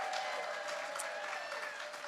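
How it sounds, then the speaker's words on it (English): Steady applause from a crowd at a 2022 All Access event, dense and continuous for a couple of seconds and slightly fading at the end. "Round of applause"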